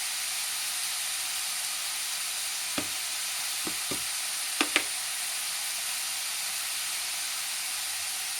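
Vegetables fry in hot oil in a pan, giving a steady, even sizzle with a few sharp pops and clicks near the middle and no talking.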